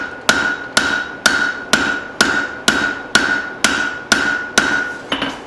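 Hammer blows on hot steel at a forge while shaping two tomahawks at once, about a dozen loud, evenly spaced ringing strikes with no talk.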